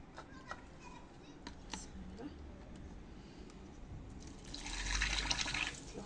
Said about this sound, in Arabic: دركا واش بقالنا نلوحو الماء